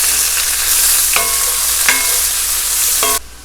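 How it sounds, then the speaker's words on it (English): Vegetables for a pineapple chicken stir fry fry loudly in a pan, a constant close sizzle broken by three sharp metallic scrapes of the spatula, then the sizzle drops off at the end. "now we're going to stir for 2 to 3 minutes"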